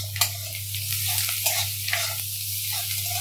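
Onions frying in a pan with salt and turmeric, a moderate steady sizzle with occasional light scrapes of a spoon over a constant low hum, no speech.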